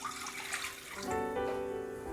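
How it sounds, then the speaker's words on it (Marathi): Water is poured into a pan to make rice flour dough, a steady splashing stream close by that shifts to a fuller, rising fill tone partway through. "आपल्याला 1 वाटी पाणी घालायचं आहे"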